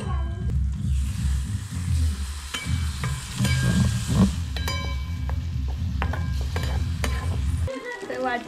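Ground peanut paste with ginger-garlic paste, turmeric and spice masala frying in a pan, a close, continuous sizzle with scraping stirs and occasional light clinks of a spoon against metal.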